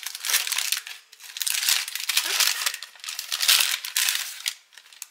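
Crinkly wrapping is torn and crumpled while an advent calendar of wool is opened, giving close, bursty rustles in uneven handfuls with short pauses between them.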